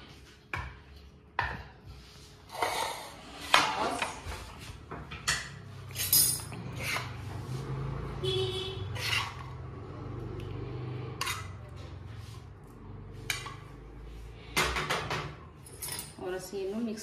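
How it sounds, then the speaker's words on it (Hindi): Spaghetti being tossed and mixed with homemade salsa sauce in a metal pan, with scattered clinks and scrapes of utensils against cookware, some sharp and close, while a person talks over the kitchen work. "अच्छी तरह से मिक्स करेंगे"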